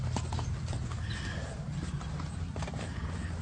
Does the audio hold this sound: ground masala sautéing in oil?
no